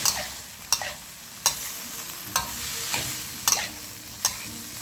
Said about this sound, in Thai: เรามาผัดให้เข้ากันครับผม ผัดให้เข้ากันเลยนะครับ